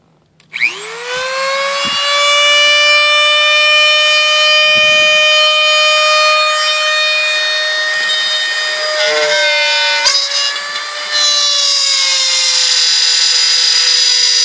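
Dremel rotary tool cutting into a plastic headlight housing of a 2006–2014 Yamaha R6 motorcycle, a loud sustained high-pitched whine that starts abruptly and holds steady for over ten seconds, with slight pitch dips as the bit bites.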